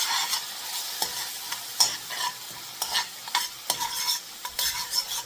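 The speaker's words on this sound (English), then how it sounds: "Now that the oil is hot, you want to add tablespoon of sofrito" Homemade sofrito frying in hot oil, a close, bright sizzle broken by repeated scraping and stirring strokes across the pan, with no voices.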